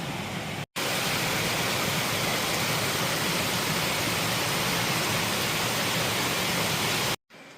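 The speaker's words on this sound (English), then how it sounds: "This is what the river looks like in the daytime." Steady, loud rushing of a flowing river heard up close in daytime, a continuous broadband wash of water with brief cuts near the start and end.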